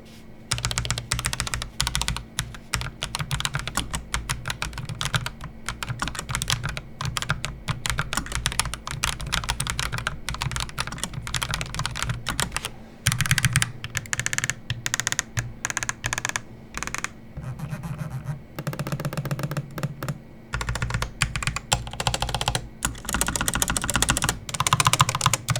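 Continuous typing on a Razer BlackWidow V4 Low Profile HyperSpeed keyboard, a steady rapid patter of close, crisp key clicks running uninterrupted with no voices.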